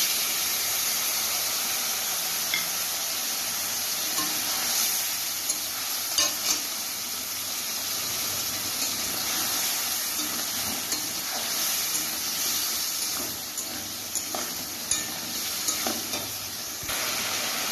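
Spices are stir-fried in a pan for a fish-head murighonto, with a continuous hiss of sizzling oil and scattered scrapes and clicks of a spatula, close and steady throughout.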